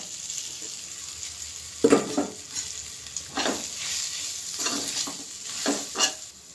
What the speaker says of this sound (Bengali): এবার দিয়ে দেব সেদ্ধ করে রাখা আলু।